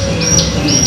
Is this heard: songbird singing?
yes